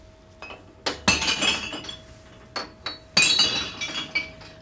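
Brown glass bottles dropped one after another into a public bottle bank, several sharp clinking and shattering crashes with short gaps between them, close and loud, no talking.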